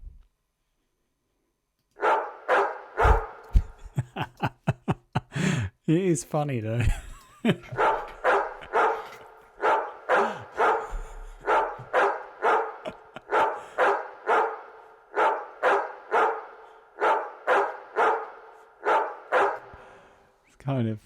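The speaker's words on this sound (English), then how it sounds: "if the bark's coming across really gimmicky, let's put a load of effects on it and make it not like a bark" A dog bark sample, heavily processed with effects, repeats in a quick rhythmic pattern inside a music track, with loud, evenly spaced bursts, some pitch-warped, and a voice speaking briefly over it.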